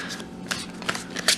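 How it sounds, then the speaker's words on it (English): A tarot card deck being shuffled loosely by hand, soft papery riffles and slides in several quick bursts, close and fairly quiet. "let's just shuffle them up"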